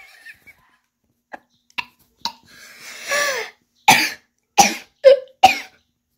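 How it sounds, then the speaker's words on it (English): Several sharp coughs close to the mic, a couple of throat-clearing sputters early on, then a run of four strong coughs in quick succession. "Oh god, I got cough on my shrimp."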